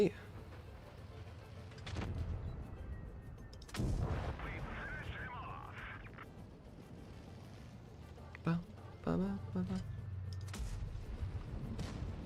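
Hellcat tank gun firing in a tank video game, two or three loud booming shots spaced several seconds apart over a low engine rumble, with brief voice chatter.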